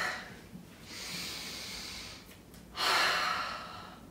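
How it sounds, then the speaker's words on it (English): Deep, slow breaths in and out during a stretching exercise at home, close and breathy, with a long exhale followed by a stronger inhale and no talking. "Breathing in and breathing out."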